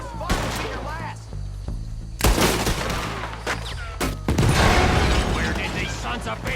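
Gunfire erupts in a Red Dead Redemption 2 shootout, sharp close shots and bursts cracking in irregular clusters amid mechanical clicks and echoing booms, with voices shouting over the fight.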